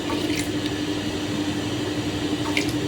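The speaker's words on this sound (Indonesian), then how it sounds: "Kita masukkan gula, airnya secukup aja ya teman-teman." Water poured into sugar in a cooking pan for a cassava and sweet potato sweet, a steady close liquid pour with soft splashing that runs evenly throughout with no talk.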